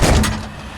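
A Jeep Scrambler off-road build's door is pulled shut, one loud close thump with a short metallic rattle that fades quickly, heard up close with no talk.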